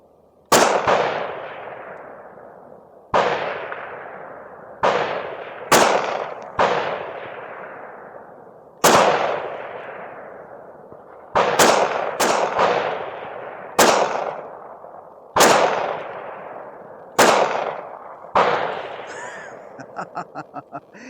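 Pistol shots from LAX 147 grain ammunition fired in sequence, about a dozen sharp loud reports at irregular intervals, each followed by a short decaying echo outdoors, with a quick cluster near the end.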